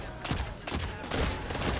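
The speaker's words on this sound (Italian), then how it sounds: "Qui non ci arriva mai sto cannone portatile." Rapid bursts of portable cannon gunfire in the Destiny 2 video game, several loud crackling volleys in close succession with brief gaps between them.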